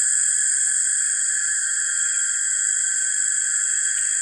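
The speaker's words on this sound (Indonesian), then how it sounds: "Namanya gaang atau ya jangkrik ya, jangkrik besar ya." A large cricket chirps in a village at dusk, a continuous shrill high-pitched trill holding steady and loud throughout, with no other sounds and no voices.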